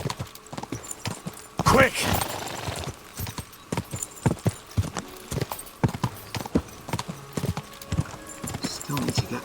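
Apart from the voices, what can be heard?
horse hooves galloping, from video game Kingdom Come Deliverance 2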